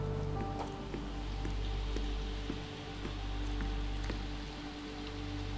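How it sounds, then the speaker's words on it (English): Steady rain falls in the game Sherlock Holmes Chapter One, a soft, even patter of drops with a low rumble beneath, continuous and moderately distant, with no voices. "빗소리 난다."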